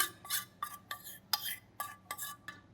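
A spoon scrapes around a vessel as white chocolate is mixed for homemade dry-fruit chocolates. About eight quiet, rhythmic strokes come close together, with no talking.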